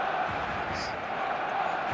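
Stadium crowd roaring before kickoff in a football video game, a steady dense wall of noise with no breaks, loud and sustained throughout, with a brief higher whoop partway through.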